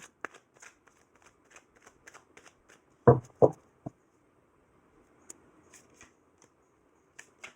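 Cards rustle and tick softly, then a couple of sharp riffling bursts in quick succession, followed by scattered light taps and shuffles.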